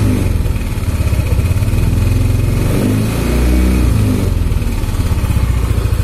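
A Dongfeng diesel engine, running on SAE 40 oil, is revved up close and loud, its deep chugging throb swelling and holding for several seconds with no talk over it.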